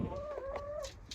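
Rescued hens arriving home after a night in transport crates, clucking close by in a quick run of rising and falling calls, with no talking over them.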